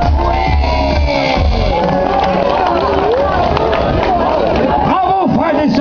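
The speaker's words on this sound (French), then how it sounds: "Et vous pouvez encore vous applaudir une fois et beaucoup plus fort que ça." A children's show audience claps and cheers loudly, with a dense roar of young voices shouting and whooping over the clapping throughout.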